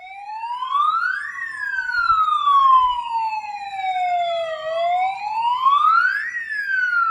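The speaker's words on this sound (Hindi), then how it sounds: "अचानक बैंक ऑफ बड़ौदा का सायरन बजने लगा, जो सारी रात बजता रहा।" A loud electronic bank alarm siren wails through the night, its pitch sweeping slowly up and down in long repeating cycles, steady and continuous with no voices.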